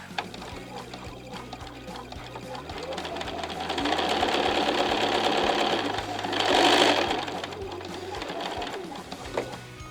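Close by, a sewing machine stitches fabric in bursts of rapid needle clatter that swell and ease, with a brief louder rush partway through and light handling noise around it.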